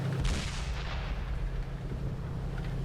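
Tank cannon fire in the World of Tanks video game on PS4, a single loud booming shot with a rumbling low tail that lingers under steady game ambience, no talk.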